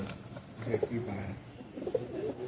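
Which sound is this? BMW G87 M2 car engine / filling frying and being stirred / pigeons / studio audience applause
pigeons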